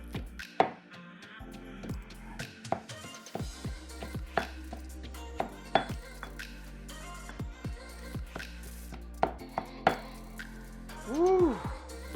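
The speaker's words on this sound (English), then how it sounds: "A while of pounding, you'll finally have this beautiful paste." Ginger, turmeric, garlic, shallot and lemongrass pounded into curry paste, a steady run of close, dull thuds with scraping between strokes, a few sharper knocks standing out, and a brief voice near the end.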